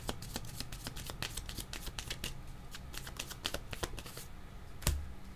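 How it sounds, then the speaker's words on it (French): Tarot cards shuffled and drawn at close range, a run of quick crisp card riffles and flicks with a soft thump near the end, no voices. "Je vais demander une autre carte."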